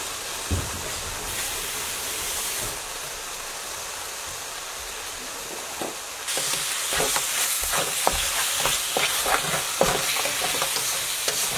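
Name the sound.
frying and stirring mutton on high flame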